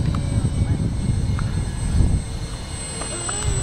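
Electric motor whine of an RC amphibious Twinstar II model plane in flight, a steady buzzing drone heard outdoors at moderate distance, rising and falling slightly.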